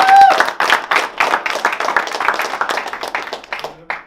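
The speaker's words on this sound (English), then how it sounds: "Let's give her a big round of applause." An audience claps and applauds at a speech event, a loud burst of many hands with distinct individual claps, strongest at the start and continuing unevenly before fading near the end.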